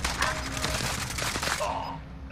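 Gunfire in the video game Warzone, a rapid burst of shots and echoing cracks under game ambience, fairly loud and fading out toward the end.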